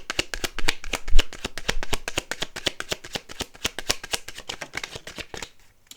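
Tarot cards riffled in a rapid shuffle, a dense run of crisp flutters and snaps close up, loud at first and ending abruptly near the finish, with no talking.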